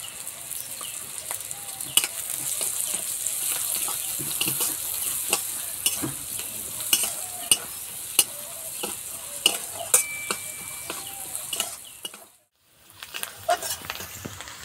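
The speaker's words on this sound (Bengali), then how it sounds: "পেঁয়াজের সঙ্গে মশলা খুব ভালোভাবে কষানো হয়ে গেছে।" Onions stir-fried with chopped chilli, chilli powder, cumin powder and turmeric powder for aloo kachori filling, a bright continuous sizzle with frequent spatula clicks and scrapes, pausing briefly near the end before resuming.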